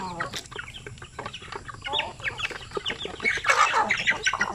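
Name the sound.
native chickens clucking, hungry mother hen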